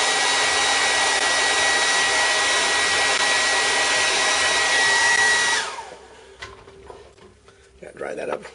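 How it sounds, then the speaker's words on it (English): A hair dryer roars loud and steady at close range for several seconds, then switches off, leaving quiet room sound and a few faint clicks. "hit it with a hair dryer"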